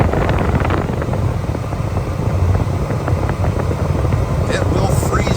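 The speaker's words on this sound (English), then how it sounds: "Max AC, and listen to the force of this air as it comes out." A 1989 Ford Thunderbird Super Coupe's air conditioning blower runs on max AC, a loud steady rushing roar of forced air filling the cabin throughout.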